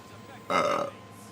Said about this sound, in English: Why did my drink make me burp when it's not carbonated?